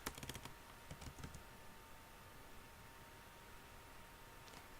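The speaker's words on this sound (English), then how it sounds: "I'm going to type in Knox," Typing on a computer keyboard, a quick cluster of clicky keystrokes at the start, then a few scattered taps over a faint steady background hiss, quiet and close.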